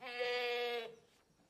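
A goat bleats once, a drawn-out nasal wavering cry lasting under a second, close and fairly loud, then a quiet pause.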